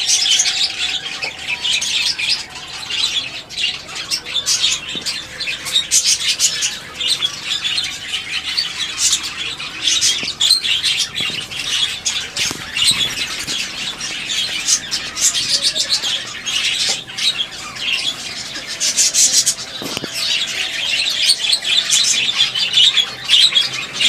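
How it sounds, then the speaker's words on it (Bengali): Budgerigars, zebra finches and Bengalese finches in a home aviary with a budgerigar colony chirp and twitter continuously, a dense, loud, steady chorus of overlapping tweets and squawks with no talk. "এদিকে আছে ফিঞ্চ পাখি, বাজজিগার পাখি, বেঙ্গলি পাখি, আবার এদিকে একটা বাজজিগার পাখির কলোনি আছে"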